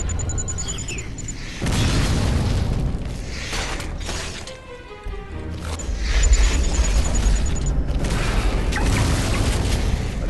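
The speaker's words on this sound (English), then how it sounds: "Whatever you are, stop throwing pop bombs at me." Pipe bombs explode in the first-person shooter video game Duke Nukem Forever, giving heavy booming blasts and crashing debris over a continuous loud game roar, with a brief lull midway before the noise surges again.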